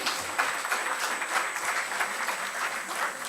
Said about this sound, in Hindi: तो जोरदार तालियां आपके लिए होनी चाहिए